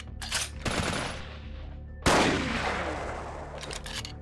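Rifle gunfire in the video game Vampire the Masquerade Bloodlines, with several loud shots whose echoes decay between them. One sharp blast near the middle rings out into a long tail.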